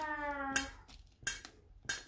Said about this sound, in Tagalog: Maingay yung aking kaldero.